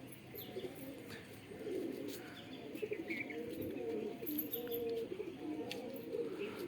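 Pigeons, including young birds, coo steadily in a loft as some flutter and fly about, with soft chirps and a continuous low murmur of birds close by.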